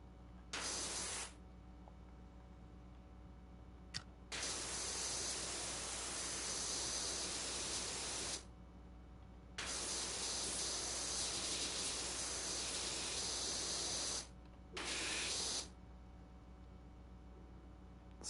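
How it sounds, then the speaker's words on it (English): Hissing spray comes in four separate bursts of a few seconds each, loud and steady, with quiet pauses between them and no voices. "Spraying it all down is not helping."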